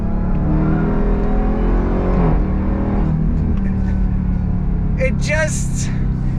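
A 2024 Dodge Durango SRT Hellcat engine revs and drops through a downshift, a steady loud roar with a brief blip, while someone talks over it close by.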